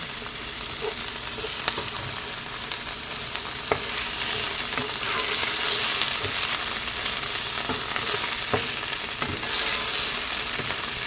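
Chopped capsicum fries in hot oil for egg fried rice, a dense, continuous sizzle with occasional sharp crackles and stirring clicks, close up and without speech.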